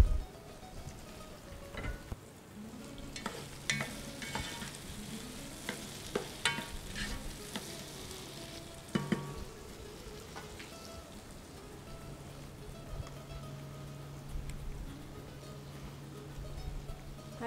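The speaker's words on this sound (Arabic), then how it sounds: "يعني بعد ما ينقلي شوية البصل انت مباشرة تخلي اللحم؟ نضيف اللحوم عليه." Meat frying with onions in a pan in a kitchen, a continuous close sizzle with scattered crackles and the scrape of stirring, no talking.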